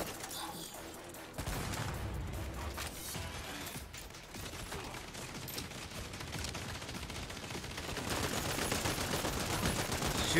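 Gunfire fills a battle in the Saints Row video game, a dense, continuous roar of shots mixed with mechanical clatter that grows louder toward the end.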